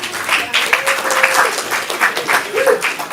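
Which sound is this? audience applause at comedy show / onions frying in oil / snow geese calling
audience applause at comedy show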